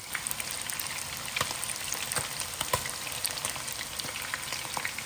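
Chicken pieces for chilli chicken frying in a pan, a faint steady crackling sizzle with many small pops scattered throughout.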